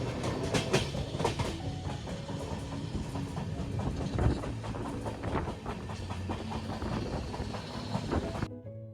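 The Ratnagiri–Diva passenger train rolls along in the Konkan region, a steady rumble and rhythmic clickety-clack of wheels over rail joints, heard up close and continuous.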